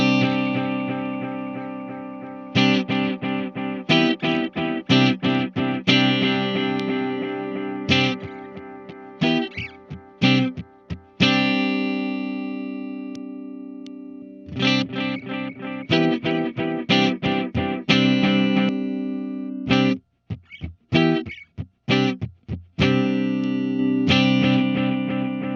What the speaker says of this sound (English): we get delay signal still ringing out as it fades out subtly over our dry signal